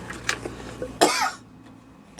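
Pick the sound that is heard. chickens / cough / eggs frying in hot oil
cough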